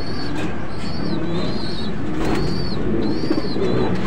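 Racing pigeons in a loft coo repeatedly in short, rising-and-falling calls over a steady, noisy background.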